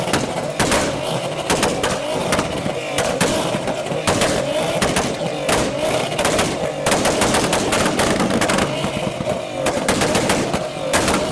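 Modified cars leaving a car meet fire off rapid, loud exhaust pops and bangs, dense sharp cracks over a continuous engine roar, with voices faintly underneath.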